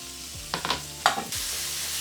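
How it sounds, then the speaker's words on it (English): Sausages and chopped bacon fry together in a pan for a pasta frittata, a soft steady sizzle broken by a few short scraping stirs. "I will cook them together now until the sausages and the bacon are properly cooked."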